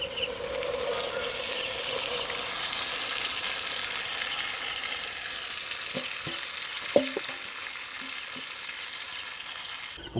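Marinated chicken fries with pink-cooked onions in a pan, a steady hissing sizzle running throughout, with a few clinking stirs and scrapes near the end.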